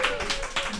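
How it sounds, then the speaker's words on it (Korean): A short, brisk patter of hand claps from a small group indoors, close and fairly loud, with a voice exclaiming over it. "어색하니까 박수 한번 치고"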